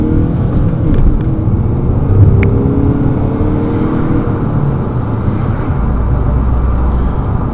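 A 2010 Audi A5 S line 2.0 TDI diesel car accelerating, heard from inside the cabin as a steady, loud engine drone with road rumble, rising gently and continuously throughout.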